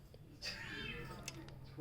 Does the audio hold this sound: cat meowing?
yes